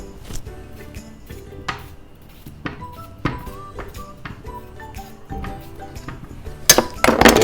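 Two small cucumbers are chopped and the pieces dropped into a bowl for cucumber lemonade, giving scattered knife knocks and hard clinks against dishware, then a louder clatter at the end.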